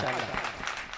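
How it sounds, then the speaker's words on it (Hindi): Applause from a mushaira audience in Begusarai greets the poet Shahar Anjum, a dense wash of clapping that holds steady for about a second, with voices mixed into the crowd noise. "जोरदार तालियां बजाएं शहर अंजुम के लिए"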